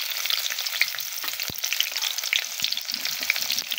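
Onions fry in hot oil in a kadai for a river goby fish dish, a bright, crackling sizzle that runs continuously, close up, with a few soft knocks.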